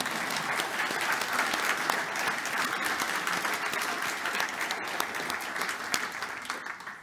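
Audience at an author event for Maurice Gee applauds steadily and loudly throughout, a dense continuous clapping with no talk over it.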